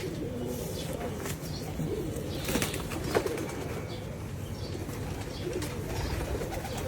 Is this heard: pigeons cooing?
yes